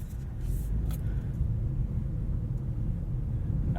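Inside a 2017 Mitsubishi Outlander Sport 2.4 SEL on the move, a low, steady road rumble and engine drone fill the cabin, with a couple of faint clicks early on.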